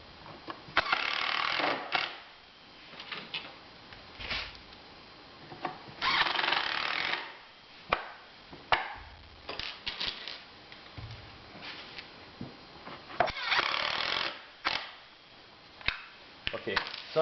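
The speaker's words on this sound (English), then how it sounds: "I'm just going to screw that together." Screws are driven into hardwood can crusher parts up close, in a series of short whirring, ratcheting bursts separated by brief pauses.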